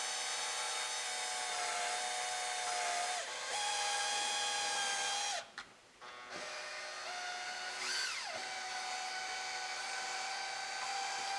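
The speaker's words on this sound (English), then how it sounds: "Unchuck your drill" A small electric drill fitted with a burr, working on a Dodge Challenger 318 engine, whines steadily at high pitch and cuts out briefly before spinning up again, close and alone.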